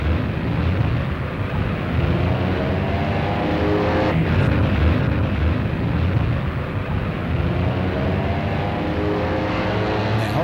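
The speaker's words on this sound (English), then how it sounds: "The big Ferdinand Porsche designed Mercedes leave the start line." Big vintage Mercedes race cars designed by Ferdinand Porsche pull away from the start line at Monaco, a dense, steady roar of engines heard throughout with no talk.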